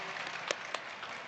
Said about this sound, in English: can we get a round of applause for all of our painters?